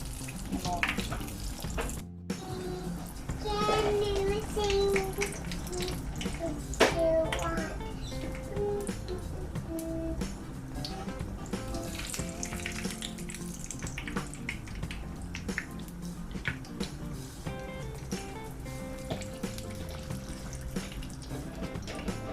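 Neyyappam, a rice and jaggery sweet, frying in hot oil, giving a steady crackling sizzle and bubbling throughout, with a voice talking over it.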